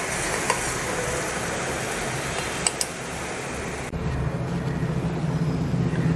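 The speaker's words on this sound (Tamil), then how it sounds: "இப்போ நம்ம சேர்த்த கேரமலைஸை நல்லா மிக்ஸ் பண்ணிடலாம் அந்த சர்க்கரை பாகோட" Caramelized mixture being stirred into hot sugar syrup for wheat halwa, a steady scraping, bubbling sizzle that carries on without pause and grows a little fuller partway through, with two brief sharp clinks near the middle.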